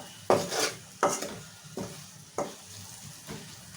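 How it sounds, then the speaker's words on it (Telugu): Tomatoes frying in oil in a pan, stirred with a spatula in slow strokes every second or so, each scrape rising over a low, steady sizzle close by. "సో టొమాటో మగ్గేంత వరకు ఇలా లైట్గా ఫ్రై చేసుకుందాం ఇంకా"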